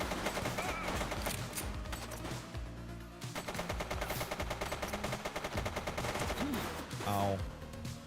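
Rapid automatic gunfire from a police video game, dense bursts of shots rattling almost continuously, loud and close, with a brief lull midway before firing resumes, mixed with game noise and a voice.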